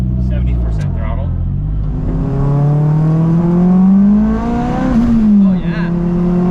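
An AWD turbocharged Acura RSX with a full exhaust accelerates from inside the cabin, its engine note rising steadily in pitch through a gear, loud and close, with voices alongside.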